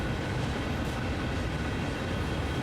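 Lead diesel locomotive in Train Sim World 2 hauling a manifest freight up Sand Patch Grade, a dense, steady engine rumble with a continuous mechanical roar, close and unchanging, with no talk.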